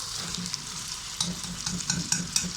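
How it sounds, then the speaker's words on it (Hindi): Mutton sizzles in hot oil with onions in a pot for turnip meat curry, a constant frying hiss broken by repeated scraping stirs at a steady pace, close and clear. "ये देखिए मैंने 2 मिनट इसको गोश्त को ऑयल और प्याज के साथ फ्राई किया है।"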